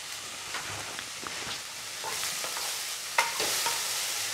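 Boiled vegetables for American chopsuey are sautéed in a pan, with a gentle, continuous sizzle and frequent light scrapes and taps from a stirring spoon close by.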